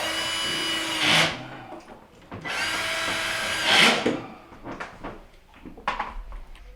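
A power drill drives the last two screws into an evaporator fan bracket inside a GE refrigerator fresh food section, two sustained whirring bursts of a few seconds each with a short gap between, close and loud, followed by light handling clatter.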